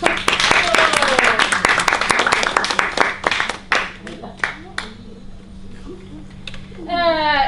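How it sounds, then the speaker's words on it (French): Audience clapping at a comedy stage show, loud and fairly sparse, with individual claps standing out, thinning after a few seconds. A voice is heard briefly at the end. "Bravo, on l'applaudit."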